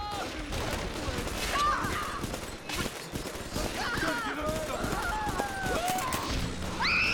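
Gunfire in BioShock 2, a dense, continuous volley of shots and impacts mixed with game effects and tonal chirps, loud and busy throughout with no pauses.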